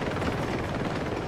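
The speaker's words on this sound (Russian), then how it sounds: "Опять вертушка к нам прилетела" A helicopter in the video game Uncharted 2, a continuous low rotor thrum and drone hovering nearby at moderate level with no voices.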